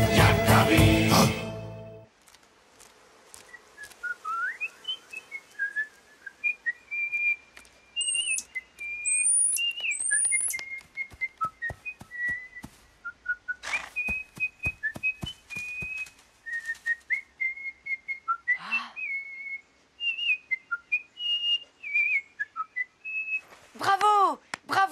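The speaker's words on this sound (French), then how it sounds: "Vraiment, de tous les oiseaux, tu es le meilleur chanteur de la forêt." Songbird in a cartoon singing a long, melodious run of whistled phrases and trills, loud and close with brief pauses between notes, after a short burst of music at the start.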